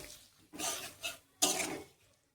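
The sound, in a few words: spice paste being fried and stirred in a pan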